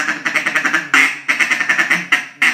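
A handheld duck call blown in rapid broken chatter with quacks thrown in between, loud and close, in quick rhythmic bursts of short reedy notes with brief pauses.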